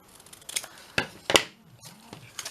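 A pair of scissors snipping off a small piece of craft material, several crisp separate cuts close by in a quiet room, the sharpest one near the middle.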